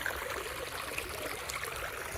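A creek at the Wild Basin nature preserve in Austin, Texas trickles and babbles as a steady, close wash of running water, with no voices over it.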